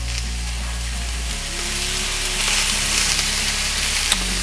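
Steak and vegetables stir-fry on a Halo Elite4B griddle at around 600 degrees, giving off a loud, constant sizzle that swells slightly midway and keeps crackling steadily throughout.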